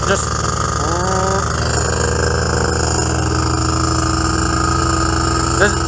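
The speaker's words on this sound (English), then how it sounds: "see if it revs up to full power" A paramotor engine drones loudly and steadily at full power while people talk over the noise.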